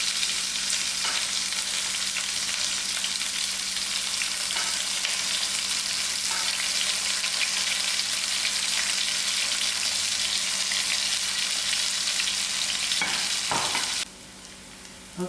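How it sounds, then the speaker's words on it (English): Onions fry in a hot pan for a lamb chop chutney, a loud, steady sizzle that crackles on without a break and cuts out abruptly near the end. "I'm going to add in my onions. I'll allow this to fry a bit."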